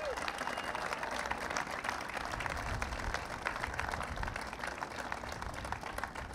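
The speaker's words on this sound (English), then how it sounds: "let's give Secretary Fox a round of applause." Audience at a New NY Bridge event applauding Secretary Fox, dense steady clapping throughout, loud and sustained with no break.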